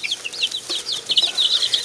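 Chickens clucking softly in a cartoon short, with a quick series of chirpy, high clucks and some faint flapping, fairly quiet and alone with no talk.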